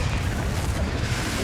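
A booming explosion from the Confringo spell in the Hogwarts Legacy video game, a dense low rumble filling the brief moment loudly.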